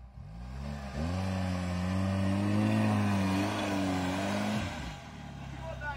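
Car straining off road to climb onto rough ground, the engine rising into a sustained rev with wavering pitch for several seconds before dropping back, loud and close.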